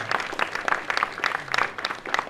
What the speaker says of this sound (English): give yourselves a huge round of applause, ladies and gentlemen